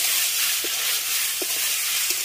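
Fried pumpkin and potato sautéing in a pan, a dense, even sizzle close up with a few soft spoon knocks spaced through it and no speech.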